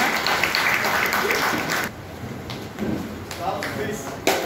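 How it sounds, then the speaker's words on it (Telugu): An audience claps at an outdoor political meeting for a Nagari MLA. The applause is dense and continuous at first, thins into scattered claps and shuffling, and a loud voice carries over it throughout. "అందరూ ఉత్సాహంగా క్లాప్ కొట్టాలి"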